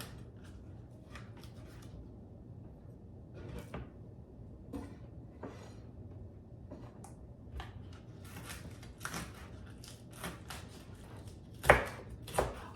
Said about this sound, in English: so I'm just gonna chop the green onions.